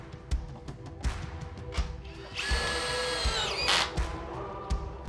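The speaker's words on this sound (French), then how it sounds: "Vous pouvez ensuite visser les profilés sur le côté à l'aide des vis autoperceuses fournies." Power drill driving supplied self-drilling screws into side profiles for sliding glass doors, a rising motor whine lasting about a second and a half over scattered clicks and taps, close and fairly quiet.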